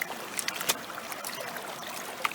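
A creek flows in a soft, steady trickle, a quiet, even wash of moving water with a few faint splashes and no voices.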